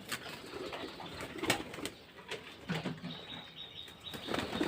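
A flock of pigeons flapping their wings as they fly down to the ground, giving a series of close, fluttering wingbeat bursts with brief pauses between them and faint cooing and bird calls underneath.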